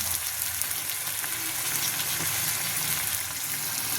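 Tomato frying in a pan with ginger, onion, garlic paste, spices and salt, a steady close sizzle and crackle running throughout without pause.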